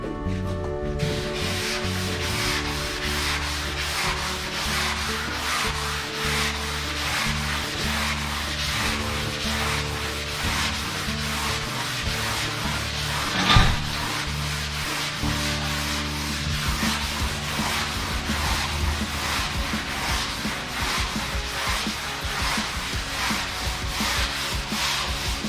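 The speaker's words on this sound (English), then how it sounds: "Glad I'm not sanding on a fender today." Steady rhythmic sanding strokes scrape across a primed Z28 car body, a continuous close abrasive rasp with one brief louder knock midway and no talking.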